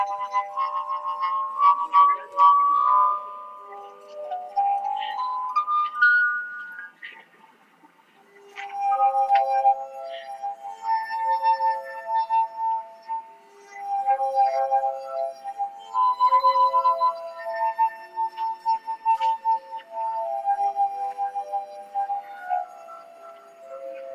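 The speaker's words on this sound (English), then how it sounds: "Similar to your classic singing wine glass" Wine glasses rubbed to sing play a slow rendition of a song, with sustained pure ringing tones shifting from note to note, clear and fairly loud with no talking.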